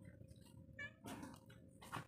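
A cat meows a few times while waiting to be fed in the morning, short faint cries spaced apart over quiet background noise.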